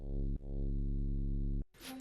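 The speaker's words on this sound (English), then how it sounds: "It's just a square wave with a low pass filter and a really slow attack" A sustained, buzzy low square-wave synth bass tone through a low-pass filter swells in slowly with a slow attack, cuts briefly, returns, then stops into a short noisy tail.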